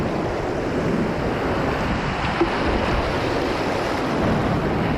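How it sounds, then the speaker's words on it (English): A surf wave on the Tellico River rapids roars as a steady, dense rush of whitewater, loud and close with some wind buffeting and no talking. "Good little surf wave here."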